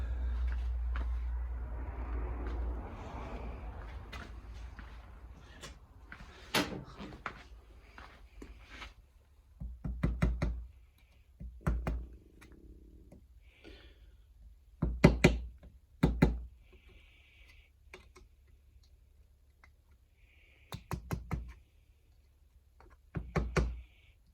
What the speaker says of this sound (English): That's finger tight, so I'll knock that tab down.